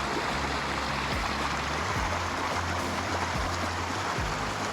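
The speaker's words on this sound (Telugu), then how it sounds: "ఇక్కడేమో వాటర్ ఫ్లో అవుతుంది, వినిపిస్తుంది" Water flowing in a stream near Cradle Mountain on a cold day, a steady continuous rushing wash that stays close and even throughout, with low rumbling underneath and no voices.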